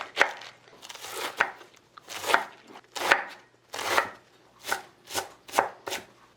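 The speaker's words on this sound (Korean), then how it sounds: "당근도요 이렇게 채 썰어가지고 다질 거예요 얇게요" A knife chops thinly julienned carrots on a cutting board for kimbap, giving about ten crisp, close chops in an uneven rhythm with short gaps between them. No one speaks.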